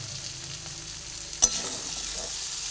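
Pointed gourd (potol) frying in a pan hisses with a steady close sizzle while being stirred, a utensil clacking once sharply against the pan midway.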